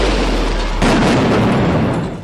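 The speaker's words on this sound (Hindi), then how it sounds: "प्रदर्शनकारियों ने पुलिस पर पटाखों से हमला कर दिया।" Firecrackers thrown at police by protesters during a street clash in Rome, heard as a loud, close burst of booming blasts and crackling over harsh crowd noise.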